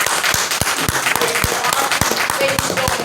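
A conference crowd breaks into scattered applause, with sharp individual claps ringing out fairly close and evenly spread, while voices murmur underneath throughout.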